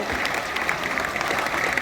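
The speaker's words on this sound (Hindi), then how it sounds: "तालियां बजा दीजिए ताकि ये नज़्म आपको लगे" Listeners at a Dussehra mushaira poetry gathering burst into brief applause, a short dense patter of many hands at steady loudness.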